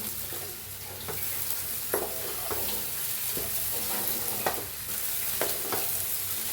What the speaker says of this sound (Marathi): टाकूया कोथिंबीर आणि मिक्स करूया